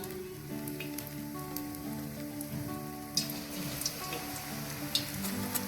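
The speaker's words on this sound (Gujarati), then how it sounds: "ચલો આ રીતે આપણે તેલમાં જ આપણે ખમણવાની છે।" Raw banana grated straight into hot oil for banana wafers, a steady close sizzle with a crackly, rain-like hiss that runs the whole time, plus a few sharper pops.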